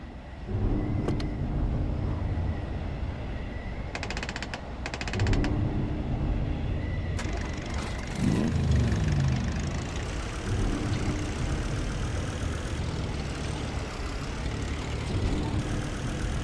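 A vehicle's engine runs steadily in the video game Titan Chaser, a constant loud motor drone with a low hum and brief shifts in tone, heard alone without speech.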